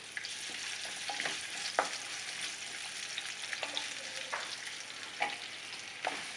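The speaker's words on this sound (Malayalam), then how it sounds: "ഇനി ഈ സെയിം ഓയിലിൽ തന്നെ നമുക്ക് കട്ട് ചെയ്ത് വെച്ച ഓണിയൻ വഴറ്റിയെടുക്കാം." Chopped onions sauté in oil for paneer biryani, giving a steady broadband sizzle with occasional scrapes and clinks of a stirring spoon, close and even throughout with no voices.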